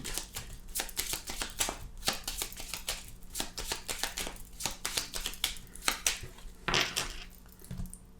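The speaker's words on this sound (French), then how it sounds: "on va faire une petite coupe avec le petit Lenormand" A Lenormand card deck is shuffled and cut, giving a steady run of crisp riffling flicks and snaps, close and dry, with a couple of heavier taps near the end.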